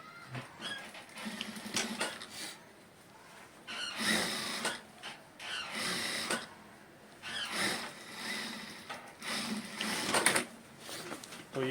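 A sewing machine stitches a shirt cup with intermittent bursts of rapid mechanical whirring and clatter, separated by short pauses, fairly quiet overall, while a person talks between and over the runs.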